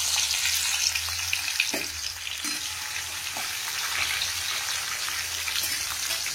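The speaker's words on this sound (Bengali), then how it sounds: "কাঁকরোল আর পটল ভাজবো।" Teasel gourd and pointed gourd frying in a pan give a steady, close crackling sizzle that runs throughout, with a few soft clinks of a utensil against the pan and no talking.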